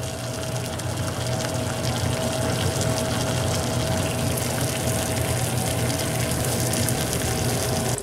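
Water rolling at a boil in a pot on a primed backpack stove, a steady, close, continuous bubbling rush with a constant hiss and hum, no voices.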